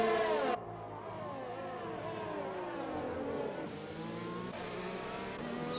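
A GP2 race car powers around the rain-soaked Sochi circuit, its engine note rising and falling through gear changes as it runs on track, loud and continuous with no talk over it.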